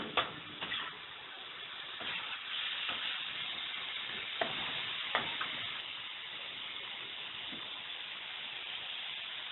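Masala and tomatoes fry steadily in a pan with a dense, even sizzle and a few sharp ticks and clinks from stirring, close and fairly quiet with no talking.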